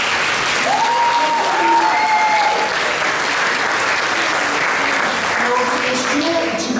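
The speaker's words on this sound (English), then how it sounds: "Big round of applause for Callum." Sustained applause fills a school hall during a junior prizegiving at Falkirk High School, a loud dense clapping crowd with a faint tone or voice briefly rising above it.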